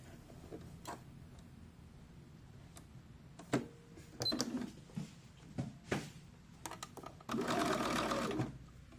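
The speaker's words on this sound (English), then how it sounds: "I'm going to back stitch." A sewing machine back-stitches a doll dress in short mechanical bursts, quiet clicks and whirs separated by pauses, ending with a longer steady run of rapid stitching.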